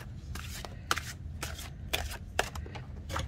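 Tarot cards being waterfall shuffled by hand, a series of soft, crisp riffling bursts with sharp taps, six or so in a loose rhythm, close and fairly quiet.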